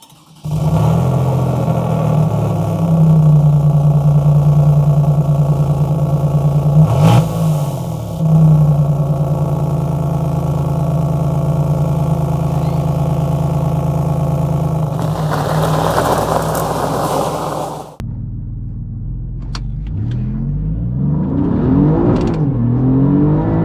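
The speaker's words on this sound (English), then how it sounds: "Immediately you can hear how much louder the GTAm is compared to the standard Quadrifoglio" An Alfa Romeo Giulia GTAm engine revs hard and holds a steady roar, then drops and climbs again with rising pitch, close and dominant throughout.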